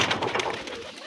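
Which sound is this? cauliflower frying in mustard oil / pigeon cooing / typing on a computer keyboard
pigeon cooing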